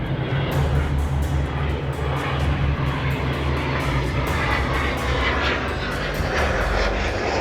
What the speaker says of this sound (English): Much more modern, high-pitched whine from that jet engine